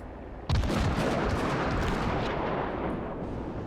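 Naval artillery guns in the World of Warships video game fire a sudden loud, booming salvo that rolls into a long, dense rumble and slowly fades.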